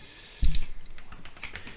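A burst of computer keyboard typing starts abruptly after a quiet moment, a quick run of close clicking keystrokes that trails into lighter taps.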